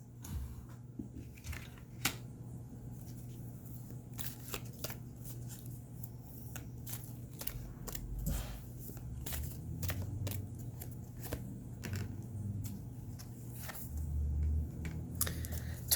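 Tarot cards are shuffled quietly and close up, with repeated soft riffling and brisk flicks of the cards over a low background hum.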